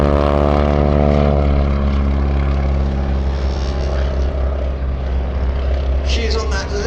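A propeller aircraft flies low and slow during a wing walking display at the Sywell Airshow, its engine drone loud and steady with shifting harmonic tones as it passes close, a commentator's voice talking over it.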